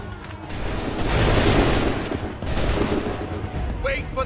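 A musket volley fired on command in Assassin's Creed 3 erupts as a loud, crackling fusillade of many shots together, followed by a second burst and a brief high whine at the end.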